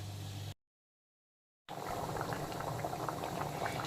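Green jackfruit simmers in boiling water for a jackfruit curry, a steady bubbling rumble that is steady and close, broken by a sudden second-long gap of silence early on, with no voices.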